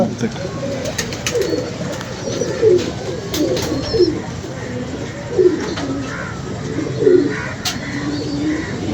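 Pigeons coo in repeated soft, throaty bursts at close range at a rooftop loft, with faint chirps and a voice talking in the background.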